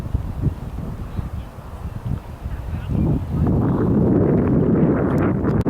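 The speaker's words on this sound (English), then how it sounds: "The wind is picking up, and the lake is getting bouncy like." Wind blowing over a lake at a park near sunset, buffeting and rumbling on the microphone, gusty at first and then swelling into a steady, loud roar.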